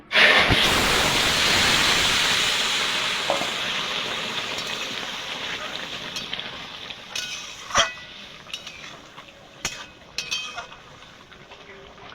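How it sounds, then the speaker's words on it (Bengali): Curry poured into a hot pan for a thin fish and bean-potato stew sets off a loud burst of sizzling that slowly settles into a softer frying hiss, with a few clinks and scrapes near the end. "তরকারিটা ঢেলে দেব"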